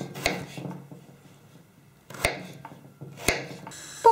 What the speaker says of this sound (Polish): Zaczynam od ziemniaków, które kroję w taką mniej więcej kosteczkę.